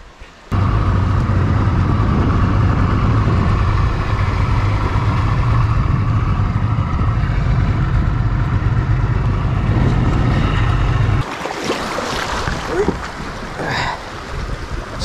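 A motor boat engine runs steadily and loud as the boat moves toward a campsite on an uninhabited tropical island, then cuts out, leaving water and outdoor sounds.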